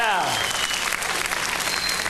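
Audience applause in a live comedy show venue, a dense steady wash of clapping that fills the room, with a voice speaking briefly at the start.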